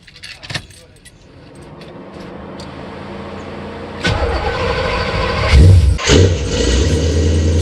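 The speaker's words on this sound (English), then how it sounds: "I'm going to go ahead and start it up, and you can hear the engine" Keys jangle before a 1985 C4 Corvette engine cranks and fires, settling into a loud rough idle with revs rising, close by.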